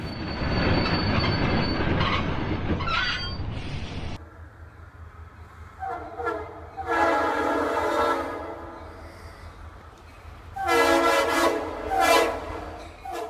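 A train rolls past in heavy snow, with loud wheel squeals and screeching rail noise that come in repeated bursts over a steady rumble. Its horn sounds, and no one speaks.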